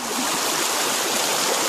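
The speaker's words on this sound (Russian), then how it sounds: "Увидим настоящую родниковую воду" Ice-cold high-mountain spring water in the Caucasus flows steadily in a continuous close rushing splash, loud and unbroken with no voices.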